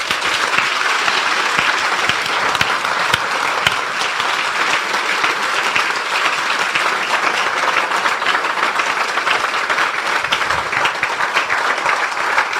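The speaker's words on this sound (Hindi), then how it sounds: "आइए हम अपने प्रभु के लिए एक अच्छी ताली बजाएंगे।" Steady applause from a church congregation praising the Lord fills the space, sustained and dense for the whole stretch with no talking over it.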